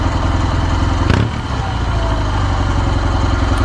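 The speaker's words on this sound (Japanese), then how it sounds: "なんかのぶとい排気音が" Kawasaki W650 motorcycle with a street-legal Y1 classic muffler idling, a deep, thick, steady exhaust burble with a low pulsing rhythm, close and loud throughout, with a brief clunk near the start.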